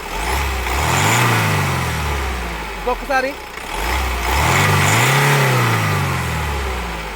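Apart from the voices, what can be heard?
car engine revving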